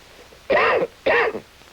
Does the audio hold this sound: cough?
yes